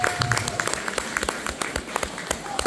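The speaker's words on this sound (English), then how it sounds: "So big round of applause." A school assembly audience claps to celebrate a regional award, a steady round of many hands clapping at moderate volume that continues throughout.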